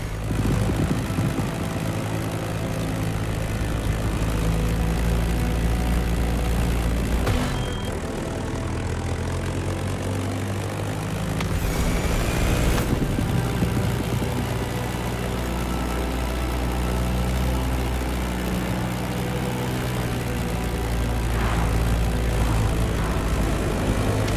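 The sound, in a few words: Sivco Edge propeller plane flying in the video game The Crew Motorfest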